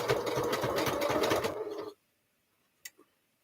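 Sewing machine stitching down quilt binding on a quilt-as-you-go project, a steady rapid mechanical whir for about two seconds that stops abruptly, followed by near silence with a few faint clicks.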